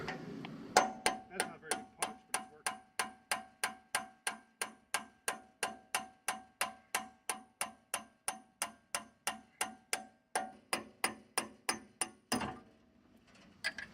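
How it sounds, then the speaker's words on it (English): Rapid, evenly spaced metallic hammer blows ring out, about three per second, close and sharp, knocking a pin out of a hydraulic cylinder, ending with a final heavier strike. "Now I'm gonna hit it with a hammer and knock that pin out"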